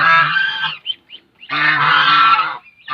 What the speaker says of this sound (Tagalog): Ang ingay ng mga gansa.